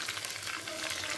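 Chicken pieces for serundeng fried chicken sizzle in hot oil in a covered pan, a close, steady crackling fry.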